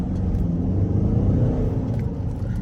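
A Mercedes-Benz C250 AMG Sport Coupe (W204) in sport mode, its engine revving hard with a loud, deep rumbling roar heard from close by, holding steady with no speech.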